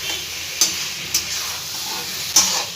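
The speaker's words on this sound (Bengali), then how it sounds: "ভাজাভাজি করে নেবো সবজিটাকে মশলার সাথে।" Vegetables with potatoes and tomatoes fry with spices in oil in a pan, a continuous close sizzle broken by three sharp clicks of stirring against the pan.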